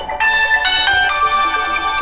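A phone ringtone plays nearby, a bright electronic melody of repeating tones that sounds clearly and loudly for a couple of seconds with no voices over it.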